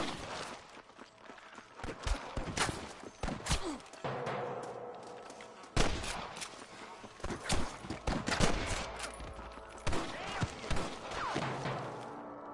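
Gunfight with snipers in Red Dead Redemption: a steady run of sharp rifle and pistol cracks, some close and loud and some farther off, with thuds and scuffling movement and a voice now and then.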